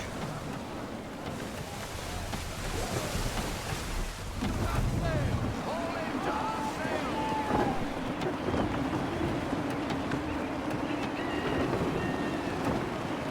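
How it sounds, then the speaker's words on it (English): Gusty wind and open-sea ambience while sailing a ship in the Assassin's Creed III video game, a steady broad rush with swells and faint game tones layered over it throughout. "Wind looks to be shifting. Stay alert, Connor. Gusty winds can be difficult to manage"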